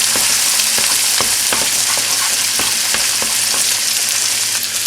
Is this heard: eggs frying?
yes